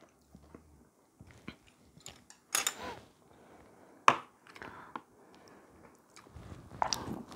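Someone eating mixed pork gukbap soup up close: sparse, moist bites, chewing and occasional sharp clicks and slurps, separated by quiet pauses, with no talking.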